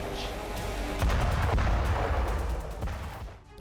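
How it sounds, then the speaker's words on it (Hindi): Russian bombing on the eastern front line in Ukraine, with FAB-500 bombs dropped from Su-34 aircraft, comes through as a series of heavy booming blasts and sharp impacts over about three seconds, loud and continuous, with no voices present. "ईस्टर्न फ्रंटलाइन पर रूस ने बमबारी की है।"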